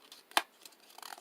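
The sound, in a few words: paper being folded for a paper flower craft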